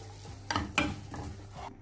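Masala for a beef filling is sautéed in a pan. Two quick, close spoon scrapes and a few softer stirring strokes sound over a low, steady sizzle.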